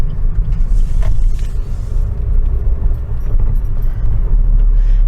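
A Suzuki Vitara LY driving on the road, heard as a constant loud low rumble of engine and road noise from inside the cabin, with light rattles and no speech.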